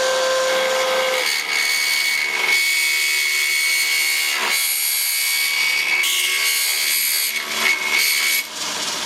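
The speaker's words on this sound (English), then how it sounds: "What I'm doing is cutting the hole bigger." An electric drill grinds steadily into wood, enlarging a hole, close and loud, its pitch wavering as the bit bites in with short dips and surges.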